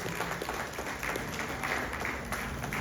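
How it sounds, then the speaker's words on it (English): Guests at a 60th birthday celebration break into steady applause, a continuous wash of clapping from a room full of people, moderately loud and without speech. "Please give them a big round of applause for their sacrifices."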